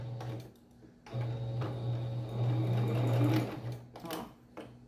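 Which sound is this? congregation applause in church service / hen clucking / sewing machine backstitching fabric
sewing machine backstitching fabric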